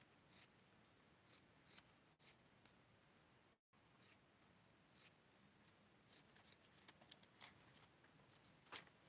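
Scissors cutting stretchy fabric for doll clothes, quiet close snips in short bursts with brief pauses between them, faint and without talking.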